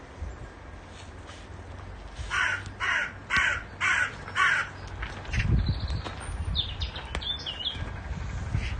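A crow caws five times in a steady rhythm, loud and fairly close, followed by fainter chirps and rustling noise.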